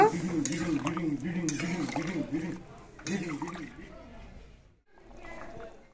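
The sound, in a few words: stirring potatoes in a pot after adding water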